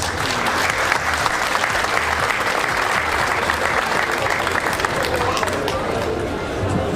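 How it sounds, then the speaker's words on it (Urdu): An audience applauds children at a Pakistan Day celebration at the Pakistan High Commission in Kuala Lumpur, with dense, sustained clapping throughout and crowd chatter mixed in. "تالیاں ان بچوں کے لیے پلیز۔"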